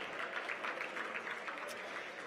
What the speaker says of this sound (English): Big round of applause for Andy Miller here tonight as well.